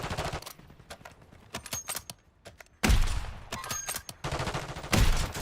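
Video game gunfire crackles in rapid bursts, with scattered single shots followed by loud, dense volleys of automatic fire close by, no talk over it.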